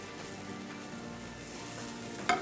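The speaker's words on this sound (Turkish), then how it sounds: "kızartmak için yağımız da ısındı. Ayrellilerimizi tavaya alıyorum." Wild asparagus (ayrelli) fries in hot oil in a pan during Cypriot home cooking, giving a soft, steady sizzle with a brief clatter near the end.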